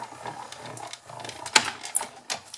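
An embossing folder holding a card is cranked through a manual embossing machine, making close mechanical whirring and grinding with a few sharp clicks and creaks.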